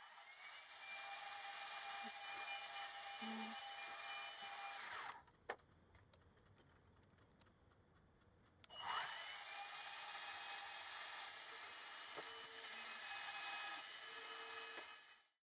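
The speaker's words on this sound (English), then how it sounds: "Now I can drill the 2 bolt holes that secure the gland in place." Small drill boring 7BA clearance bolt holes in a brass cylinder end cover for a Stuart Progress oscillating engine, two high-pitched whining bursts separated by a few seconds of quiet, close and steady, without talking.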